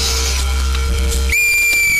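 A whistle is blown in a tense film scene and gives a sustained, shrill, steady tone. It cuts in partway through, after a loud, low rumbling background, and no voices are heard.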